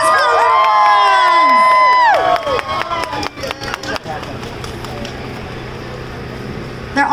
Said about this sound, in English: Round of applause for the little ones.